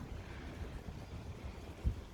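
Strong wind roars during a snowstorm in Iceland, a continuous rumbling buffet against the microphone with gusty thumps and a sharper blast near the end.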